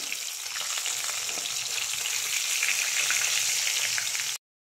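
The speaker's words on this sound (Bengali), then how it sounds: "এদিকে ইলিশ মাছ ভাজা চলছে" Hilsa fish frying in oil, a steady dense sizzle that holds at a constant close level from start to finish, with no voices over it.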